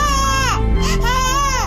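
A baby boy cries loudly and close by in strained, wailing bursts with a short catch of breath in the middle, the sobs rising and falling.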